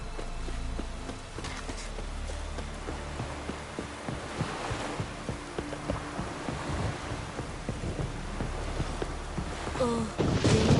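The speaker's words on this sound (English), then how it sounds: "Oh, raining again." Rain falling steadily in The Witcher 3, a continuous wash of drops with low rumbling underneath and scattered soft thuds, fairly loud throughout.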